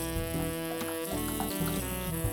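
Tomatoes cooking in hot oil for a Kolhapuri tambda rassa, giving a steady, fairly loud sizzle and frying hiss that runs without a break.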